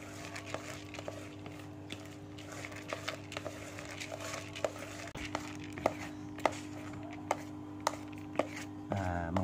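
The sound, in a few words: stirring catfish feed pellets mixed with probiotic liquid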